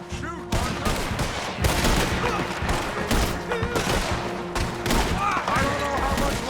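Rapid gunfire and fusillades in a Red Dead Redemption 2 shootout, loud and dense bursts of shots throughout with voices talking over the battle.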